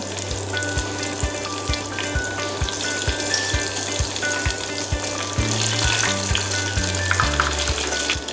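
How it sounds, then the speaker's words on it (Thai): Banana wontons deep-frying in hot oil until golden make a loud, constant bubbling crackle, close up and unbroken, with faint rhythmic thumps and a low hum underneath and no talking. "เราจะทอดให้เป็นสีเหลืองทองนะคะ ใช้เวลาทอดไม่นานค่ะแป๊บเดียว"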